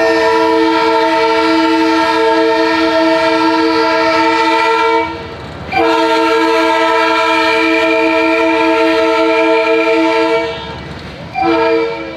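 A passing train in Madagascar gives long, loud horn blasts close by. The first lasts about five seconds, the second about as long, and a third starts just as the sound ends. A low rail rumble runs underneath.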